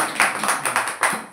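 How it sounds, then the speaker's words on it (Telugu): Several rounds of audience clapping at a devotional discourse in Srikakulam, coming in uneven bursts of hand claps over a short stretch with a brief pause in between. "మళ్ళీ చప్పట్లు కొట్టు."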